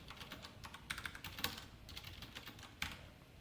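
Keys clatter on a computer keyboard in short, irregular bursts of crisp clicks, fairly quiet and close, with a couple of firmer strikes and no talking.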